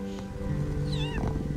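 Cats meowing in the video game Shelter 2, a short rising and falling meow over a steady low background tone, close and fairly clear.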